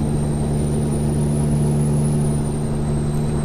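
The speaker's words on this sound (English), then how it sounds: "Listen to this truck just purr though." A steady, low Peterbilt 389 truck engine drone in Euro Truck Simulator 2 hums continuously, with a faint high whine running above it and no voices.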